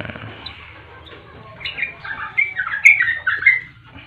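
Several birds squawk and chirp in quick overlapping bursts, growing louder midway, over a quiet background with no talking; zebra dove chicks among them.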